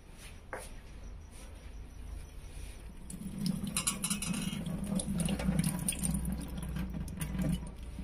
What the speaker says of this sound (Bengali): একবার ভাতটা ধুয়ে দেখো তো